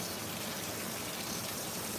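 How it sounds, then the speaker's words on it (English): A continuous rushing gush of water running into a cooking pot, steady and close with no pauses, filling the whole short stretch evenly. "Add a little bit more water"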